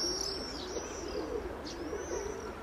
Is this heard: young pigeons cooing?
yes